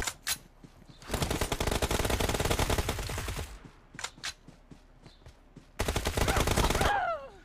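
Rapid automatic submachine gun fire in PUBG Mobile, in two long sustained bursts with a few single shots between, sharp and close, ending with a descending whine.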